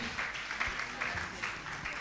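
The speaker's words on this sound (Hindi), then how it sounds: "तालियों के साथ हम इनका अभिनंदन करते हैं" A gathering at a Jain monk's question-and-answer session gives faint, steady applause to welcome guests. The clapping holds at an even level throughout, heard from a distance with a little background voice.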